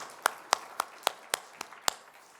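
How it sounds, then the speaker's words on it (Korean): About seven sharp, evenly spaced claps ring out during a Korean church worship service, fairly quiet and with no one speaking over them. "하나님께 영광의 박수 올려드릴까요?"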